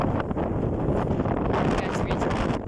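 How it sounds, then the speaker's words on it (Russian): Very strong wind gusting across an open field, a loud continuous roar and buffeting against the microphone throughout, with no other sound standing out. "Опять ветер."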